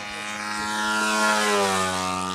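Model airplane at a control-line flying event, a steady droning propeller whine with shifting pitch as it passes, fairly close and heard alone.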